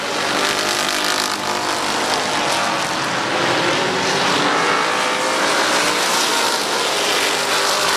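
Race cars roaring around the oval at Midvale Speedway, a loud, continuous dense engine drone with no break, the pack held close throughout.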